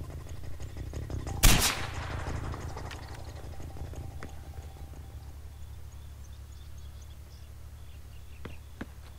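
A single sharp gunshot in the Far Cry 4 video game, loud and close, followed by a low ambient hum and a couple of faint clicks later on.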